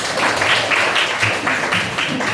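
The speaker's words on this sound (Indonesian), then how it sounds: "tepuk tangan untuk kita semua" A classroom of students claps together in a quick, regular rhythm, a run of bright, evenly spaced claps heard close and fairly loud for a couple of seconds.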